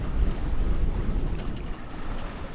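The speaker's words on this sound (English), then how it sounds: "I've actually got the boat sailing itself with the wind coming at a close reach" A sailboat sailing itself on a close reach in about 12 knots of wind, wheel locked, moving at around 4 knots: steady wind and water rush with low hull and wave noise, constant and alone without voices.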